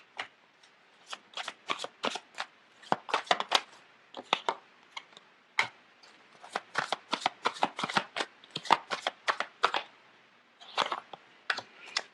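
Tarot cards shuffled by hand during a reading, a close run of crisp riffling and slapping bursts in uneven clusters, with brief pauses between rounds.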